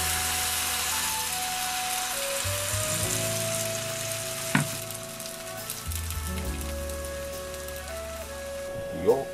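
Crepe frying in a pan, a steady close sizzle beneath a persistent low hum and tonal drones, with a couple of brief clinks near the middle and end.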